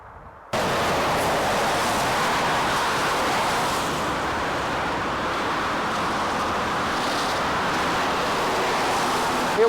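Steady traffic roar from the A406 road running along the edge of Wanstead Park in east London, a constant broadband wash of passing cars that starts abruptly and stays loud and even throughout, with no talking.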